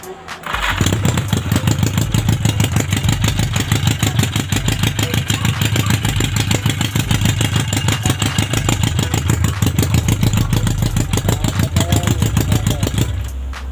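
A rebuilt Yamaha Maxim XJ750 motorcycle engine fires up and runs with bare headers and no muffler, a loud, rapid popping idle with a steady pulsing beat, heard close and sustained until it cuts off near the end.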